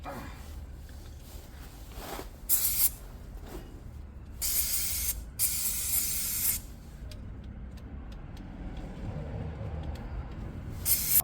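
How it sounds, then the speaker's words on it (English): Brake and clutch cleaner is sprayed onto motorcycle parts in several sharp hissing blasts of one to two seconds each, loud and close against a quiet background. "I'm absolutely blasting this with brake and clutch cleaner"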